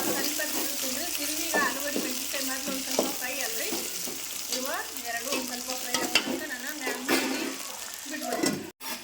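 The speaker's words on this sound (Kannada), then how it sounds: "ಆಲೂಗಡ್ಡೆ ಮೆಣಸಿನ್ಕಾಯಿನೆಲ್ಲ ಫ್ರೈ ಮಾಡ್ಕೋಬೇಕು" Thick-cut potatoes and green chillies fry in hot oil with a steady sizzle and occasional stirring scrapes, close and fairly loud throughout, with a sharp clatter near the end.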